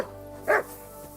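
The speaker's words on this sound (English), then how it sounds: "You silly doggy." A single sharp dog bark, close and clear, rises above a quiet ambient bed in the medieval video game Kingdom Come: Deliverance II.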